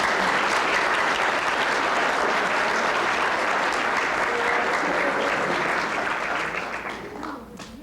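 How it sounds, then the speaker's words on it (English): Audience applause at a children's speech contest, a dense, loud, steady clapping from a roomful of people that holds for several seconds before tapering off at the close. "Let's give them all a round of applause."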